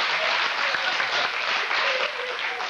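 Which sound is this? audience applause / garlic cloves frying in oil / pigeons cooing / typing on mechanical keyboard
audience applause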